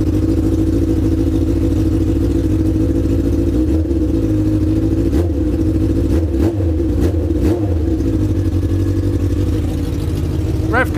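Honda Fireblade motorcycle engine idling loudly and steadily up close in a garage, with a few short throttle blips that rise and drop mid-way through, a low continuous hum underneath.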